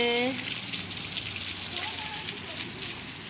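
Heavy rain pouring down outdoors, a steady dense hiss filling the background continuously from start to finish, with faint voices briefly rising over it near the start and middle.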